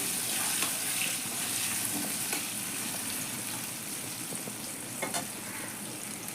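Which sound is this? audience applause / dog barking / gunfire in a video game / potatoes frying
potatoes frying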